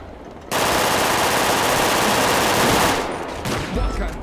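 Sustained automatic gunfire in a GTA roleplay game on the RedlineRP server, a loud dense burst running for about two and a half seconds before tapering into a few scattered shots.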